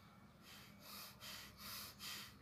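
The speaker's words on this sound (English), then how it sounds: "Now, do breathing exercise in speed" Quick forceful breaths through the nose during a relaxation breathing exercise, four sharp rhythmic exhalation bursts in steady succession, close and loud with no talking.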